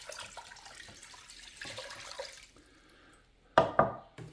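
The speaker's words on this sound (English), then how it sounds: "I'm gonna start with 4 cups of water." Water pours steadily for the first few seconds, then quiets before two sharp, louder splashes near the end, with no voices.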